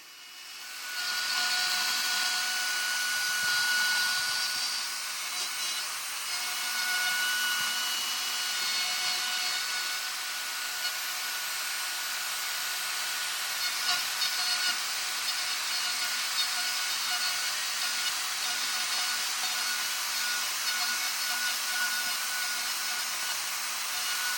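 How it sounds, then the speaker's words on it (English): A handheld router with a guide bushing cutting white oak inside a template, a loud, steady high-pitched whine with grinding wood, running continuously up close with no voices. "I'm going to take out all this wooden material inside of this template that I've laid out."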